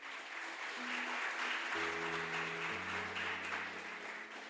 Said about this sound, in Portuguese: Você pode aplaudir o Senhor aqui?